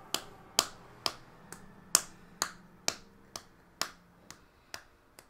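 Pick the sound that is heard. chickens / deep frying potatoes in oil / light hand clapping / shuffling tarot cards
light hand clapping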